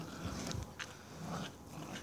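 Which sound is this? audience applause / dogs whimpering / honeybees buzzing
dogs whimpering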